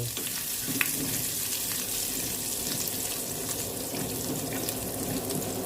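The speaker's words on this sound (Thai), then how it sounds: "ก็ผัด ให้เกิดความหอมของกระเทียมและพริกไทย" Garlic and black pepper stir-fry in a hot pan for a black pepper pork dish, giving a constant dense sizzle up close with faint spatula taps and scrapes, and nobody speaking.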